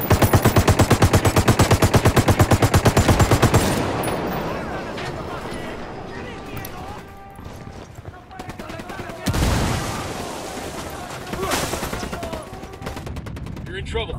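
Rapid automatic gunfire in the video game Ghost Recon Wildlands opens with a loud, steady burst, then gives way to scattered shots and a sharp blast over a dense combat background.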